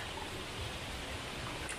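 River water flows near a waterfall site, a steady, soft rushing wash that is faint and distant and carries no talk.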